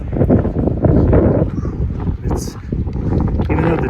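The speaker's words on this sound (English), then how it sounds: "I know I'm going to hate the wind at some point. But for now, it's refreshing." Wind gusts across an exposed Pacific Crest Trail section in Northern California, roaring and buffeting the microphone loudly and continuously, with brief voice fragments partly buried in the rumble.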